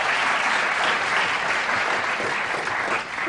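Studio audience at a Letterman taping breaking into steady, loud applause, a dense even roar of many hands clapping with no voices on top.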